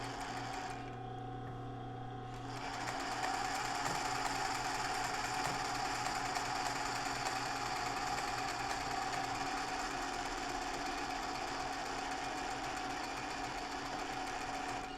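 A sewing machine stitches a zigzag along a linen edge, running in a steady, fast mechanical whir that starts after a brief pause and continues evenly, close and alone.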